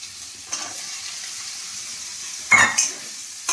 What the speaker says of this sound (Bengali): ক্যাপসিকামগুলো দিয়ে নেড়ে নেব